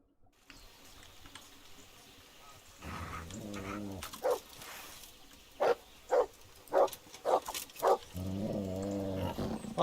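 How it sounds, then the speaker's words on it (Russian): A dog barks at a pig in a rural setting: several sharp, close barks in a short rhythmic run, with low growling and whining between them, no voices. "Вымотался пёсель гавкать на свинью, да?"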